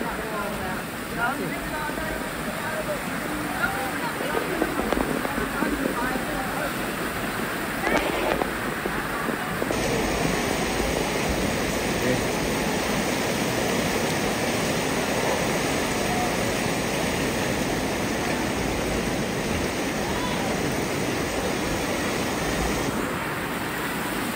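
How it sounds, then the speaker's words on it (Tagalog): Loud, steady rush of floodwater from the overflowing San Miguel River in Tatalon, Quezon City, roaring close by for the whole stretch, a broad churning wash with wind buffeting the microphone and no voices. "So yung tubig ho na pumapasok dito na nakikita nyo, yan ay galing na mismo ho sa San Miguel River"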